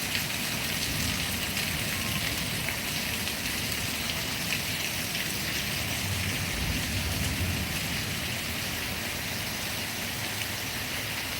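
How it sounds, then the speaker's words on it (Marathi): Heavy torrential monsoon rain pours down in a dense, unbroken roar that stays loud and steady, with no voices over it. "अतिशय जोरदार पाऊस चालू झालेला आहे"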